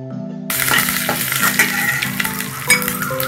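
Dried red chillies and curry leaves hit hot oil with a sudden loud sizzle that keeps crackling steadily, close up, with stirring scrapes, under a low background hum.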